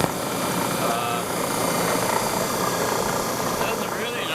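An old Leiman Bros buffing machine with a brush motor runs steadily in a machine shop, a continuous loud whirring hum with no pauses across the clip.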